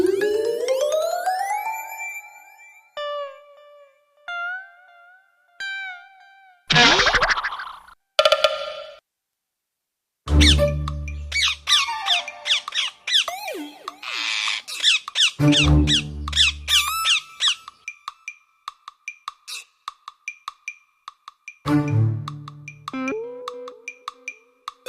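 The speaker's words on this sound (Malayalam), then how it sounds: "ചെമ്പന്റെ സഹായത്താൽ രക്ഷപ്പെട്ട തത്തകൾ ചെമ്പന്റെയും അമ്പുവിന്റെയും പിന്നാലെ" Cartoon parrots in a 3D kids' animation make a string of squeaky, chirpy calls and squawks in short irregular bursts, with sliding pitches, quick pops and brief silences between them.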